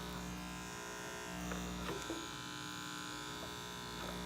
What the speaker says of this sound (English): I expected the clippers to be a little less noisier